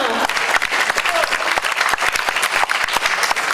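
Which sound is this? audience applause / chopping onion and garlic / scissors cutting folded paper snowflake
audience applause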